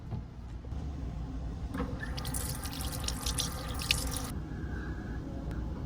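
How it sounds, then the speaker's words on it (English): Tap water gushes into a small sink in an Amtrak Silver Star sleeper roomette, a bright rushing stream lasting a few seconds over the constant low rumble of the moving train. "Let me finally show you some footage of the sink."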